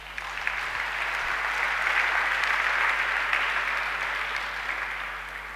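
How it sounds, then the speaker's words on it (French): Sustained applause and cheering from a large congregation acclaiming the king at a solemn church convocation, a dense, steady roar of clapping that swells and holds for several seconds. "Acclamons notre roi."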